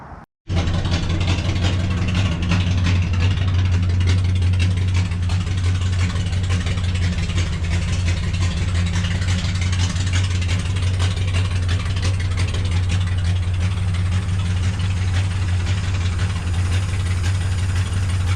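Engine of a 1930 Ford Tudor sedan idling steadily after antifreeze was added, a loud, even low rumble with a deep hum that carries on unbroken for the whole stretch after starting abruptly.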